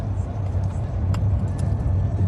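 Cars at the Jordan River baptism site make a steady low traffic rumble, with a couple of short sharp clicks or knocks cutting through and people talking faintly in the background.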